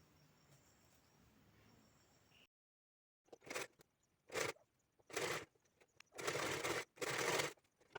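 A sewing machine stitches the side slit of a lined blouse in short rhythmic bursts of close, whirring needle runs, each separated by brief pauses after a quiet stretch.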